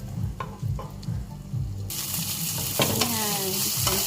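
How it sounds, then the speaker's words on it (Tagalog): Chicken stir-fries in a pan, a constant sizzle with scraping stirs and a sharp surge of hissing partway through, close and fairly loud. "stir fry muna natin yung chicken."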